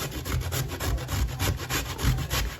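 Sweet potatoes being grated by hand for dumplings, a steady run of quick, rhythmic rasping strokes, close and moderately loud, with no talking.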